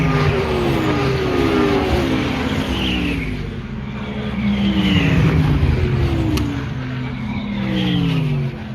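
A Ferrari race car accelerating around Phillip Island circuit, its engine climbing through repeated rising gear pulls, loud and close, with a second car's engine blending in as the sound swells and fades.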